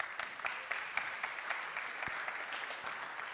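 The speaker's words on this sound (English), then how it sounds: "Can we have a round of applause," Audience applause at a live pitch competition regional final in Dubai, a dense sustained clapping from a crowd, fairly even and moderately close, with no voices over it.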